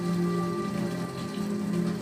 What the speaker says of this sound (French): Qu'il est difficile de survivre sous cette incessante pluie.